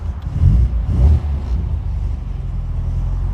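A 1967 MGB Roadster engine cold-starts with a couple of loud low cranking surges, then settles into a steady, close, rumbling idle.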